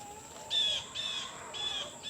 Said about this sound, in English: Sorry, birds are going crazy.